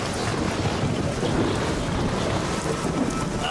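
Loud, unbroken downpour with a deep rumbling roar and gusty wind noise, constant throughout.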